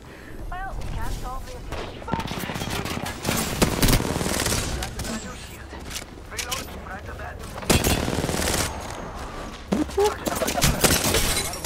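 R9 rifle gunfire in an Apex Legends fight, loud rapid bursts repeating across the whole stretch with shatter-like impacts, while a voice talks over the shooting.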